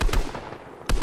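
Gunfire in a trios no-builds shooter video game: two close, sharp bursts of rapid shots with a short pause between them.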